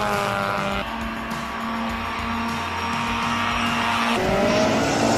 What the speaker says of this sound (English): This is Peter Solberg in the WRX.